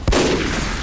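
Gunfire in Team Fortress 2, a sharp shot followed by a dense, loud burst of noisy firing that fills the brief moment.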